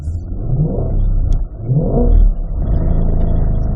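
A 2020 Corvette engine roars steadily and loudly as it revs while doing a donut, swelling and easing slightly with no voices over it.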